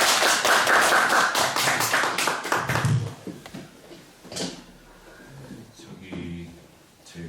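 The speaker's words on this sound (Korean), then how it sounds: "여러분께서 큰 박수로 환영해 주시기 바랍니다" Forum audience giving a welcoming round of applause for a guest professor, a burst of dense clapping that thins into scattered claps and fades, followed by quieter room noise and voices.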